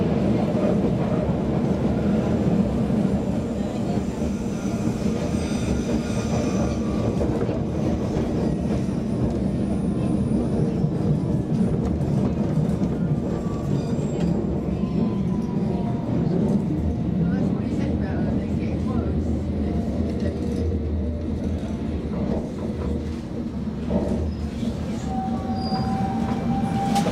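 An underground train rumbles along steadily, wheels clattering on the rails with occasional high squeals, a constant loud ride from inside the carriage.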